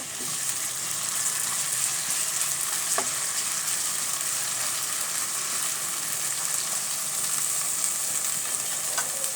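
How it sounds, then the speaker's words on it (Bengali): A garlic and cumin paste fries in a pan for a taro flower dish and gets stirred. A steady, bright sizzle fills the whole stretch, with a few soft stirring clicks and no talking. "এখন আমি ভালো করে একটু নেড়ে চেড়ে দেব।"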